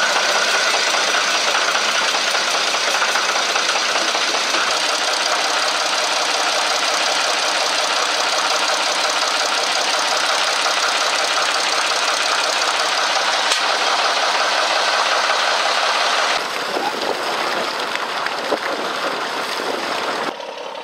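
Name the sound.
engine started with compressed air bottle, accelerating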